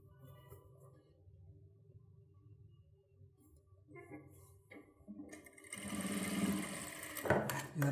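Sewing machine rough-stitching silk fabric for a child's pattu pavadai, starting up in the second half as a loud steady mechanical whir after quieter handling sounds and faint talk.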